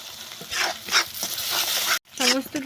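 Prawn curry with pointed gourd sizzles in a pan as a spoon stirs it, with close, uneven scrapes and a brief break before the frying hiss resumes.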